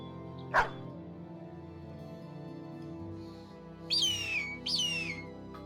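A war dog in the video game Battle Brothers lets out a short sharp bark, followed a few seconds later by two higher yelping barks over a low steady game soundtrack, with no speech.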